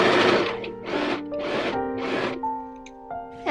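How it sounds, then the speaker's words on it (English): A sewing machine stitches a lace layer onto the bottom of a dress in short, close bursts of buzzing motor sound, with sustained tones ringing beneath and no talk. "Right now, I'm just sewing this layer"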